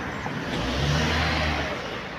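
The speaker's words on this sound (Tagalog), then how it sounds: "Mga nagdadaan na ng mga sasakyan." A car on a rural road sweeps past in one smooth swell of engine and tire noise, building and fading over a couple of seconds, with no talk over it.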